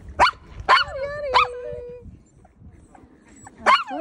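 Dogs let out several sharp, whining barks and yips in close succession, with a drawn-out whimper between them, loud and close over light background noise.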